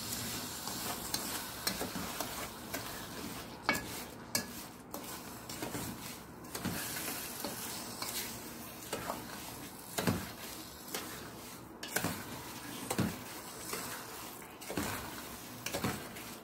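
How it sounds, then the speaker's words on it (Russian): A spoon stirs quince jam with sugar in a pot as it boils, giving steady scraping and clinking against the metal, with soft bubbling sizzle underneath throughout and no voices. "Мешаем постоянно, чтобы сахар не подгорел."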